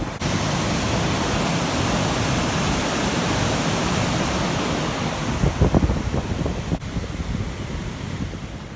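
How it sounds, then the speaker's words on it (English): Water pours out of a small lake reservoir in a continuous loud, rushing wash of noise, like a weir or spillway heard up close, with some wind buffeting the microphone. "It's literally just a dirty reservoir of water that comes out of this little lake area"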